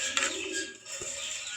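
Caged budgerigars and cockatiels give brief chirps and soft calls over a steady hiss, close by, with no talk.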